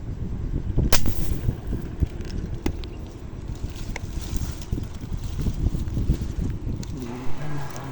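A speargun fires at a fish while spearfishing in a pool among water lilies: one sharp, loud crack near the start, followed by steady rushing wind and water noise from a nearby microphone.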